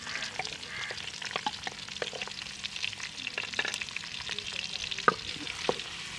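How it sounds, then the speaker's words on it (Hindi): Onions frying in hot ghee for aloo methi palak, a constant crackling sizzle with scattered pops and stirring scrapes close by, no talk. "घी हमारा गर्म हो गया,"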